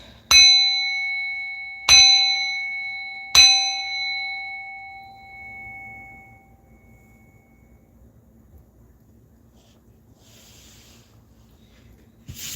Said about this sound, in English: I'm gonna bang this bell to remove, rebuke, and block all hexes, curses, and spells out of my place